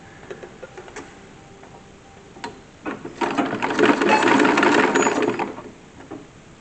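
A sewing machine stitches boning casings onto a corset, with scattered light mechanical clicks, then a steady whirring run of about three seconds that swells loud before tapering off.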